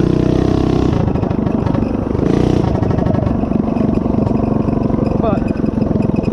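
DoodleBug DB30 mini bike with a 212cc Stage 1 engine ridden over a bumpy backyard, a loud, rough, clattering single-cylinder chug that rises and falls, with someone talking over it.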